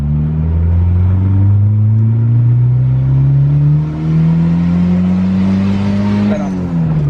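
Turbo Honda Civic EG Type R engine revving hard from inside the car, a loud steady pull rising in pitch for several seconds before a brief dip and gear change, then climbing again.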